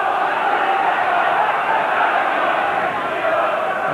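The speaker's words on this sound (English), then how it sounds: "the crowd is singing there's only one Steve Sherwood" Football crowd at a Grimsby Town versus Derby County match in December 1992 chants for goalkeeper Steve Sherwood, a dense, continuous roar of many voices singing, held steady and loud throughout.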